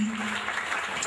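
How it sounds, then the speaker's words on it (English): Church congregation clapping during a Christmas carol service, a dense continuous patter of many hands over a low sustained tone, brief and steady. "Continue clapping. You can do better."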